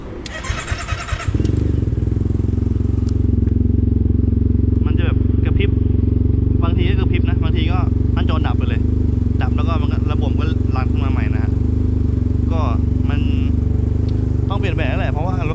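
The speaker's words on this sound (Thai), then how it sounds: "เดี๋ยวผมจะลองสตาร์ทให้ดูนะ" Yamaha TMAX 530 SX scooter engine, fitted with a new battery, catches after a brief starter crank and settles into a loud, steady idle close by, while someone talks intermittently over the running engine.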